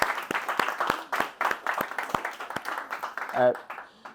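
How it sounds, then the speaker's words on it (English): Audience clapping at a book launch, a run of crisp rhythmic hand claps from a nearby small crowd, fading toward the end as a voice begins speaking. "let's give Amina a clap"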